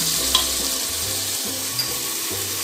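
Ground spices, including red chilli, garlic and ginger, fry in a pan for arbi gosht, giving a loud continuous sizzle with a couple of faint stirring taps.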